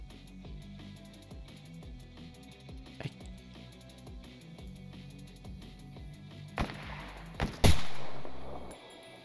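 Gunfire in the video game S.T.A.L.K.E.R., several scattered shots over a quiet game soundscape with ambient tones, ending in one loud sharp blast followed by a long decaying ring.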